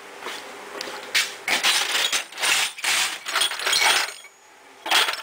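A ratchet with a long-body socket works on a Royal Enfield engine, giving a series of close, sharp metallic clicking bursts in uneven runs with short pauses.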